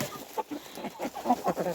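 Three-month-old chickens cluck in short, irregular bursts close by, a steady scatter of soft calls with no other sounds over them.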